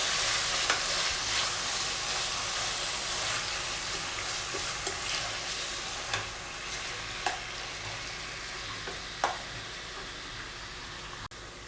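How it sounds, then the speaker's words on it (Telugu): Thinly sliced tomatoes stirred in a pan for red sauce pasta, a soft steady sizzle with light scraping stir strokes and occasional clicks, quiet and close with no talking. "టమాటా యాడ్ చేసిన తర్వాత టొమాటో అంతా కూడా బాగా కలిసేటట్టు మిక్స్ చేసుకోవాలండి."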